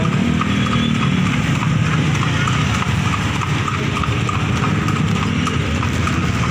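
Rapid clip-clopping of horse hooves, steady and brisk, over a constant rumbling background of motion and wind.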